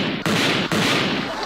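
Gunshots in a film scene, two sharp cracks roughly half a second apart, loud and close within a dense, noisy soundtrack that continues between and after them.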